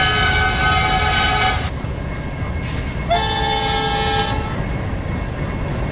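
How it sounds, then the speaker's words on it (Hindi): Horn of the Jan Shatabdi Express sounds in Train Simulator (Railworks), two loud sustained blasts with a short gap between them, heard over the low hum of the idling locomotive. "एक बार हॉर्न बजा देते हैं हम लोग यहाँ से।"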